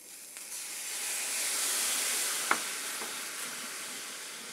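Water poured gradually into hot caramel made from brown sugar, giving a steady broadband sizzle with hiss and steam throughout and one brief sharp crackle partway through, with no talk.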